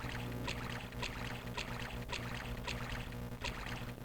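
A character wades through water in The Elder Scrolls: Arena, with steady rhythmic splashing strokes repeating about twice a second over a constant low drone of game sound.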